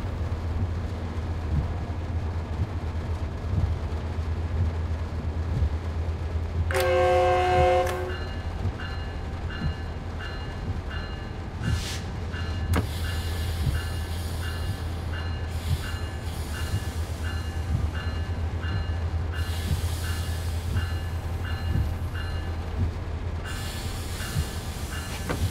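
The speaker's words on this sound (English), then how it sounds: "Let's see how the train reacts to slowing down." Simulated train from Train Sim World 4 on the Antelope Valley line, slowing near Glendale: a steady low engine and rail rumble throughout, with a brief burst of harmonic squeal or horn tones early on and recurring faint high ringing tones.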